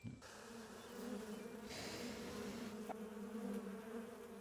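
Honey bees, drones among the workers, buzz around an opened hive in a constant low hum, close but soft, with no voices heard.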